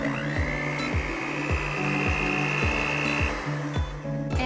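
An electric mixer whirs through cookie batter with baking soda and powder, a steady close motor hum with a regular rhythmic knocking as the beaters turn in the bowl.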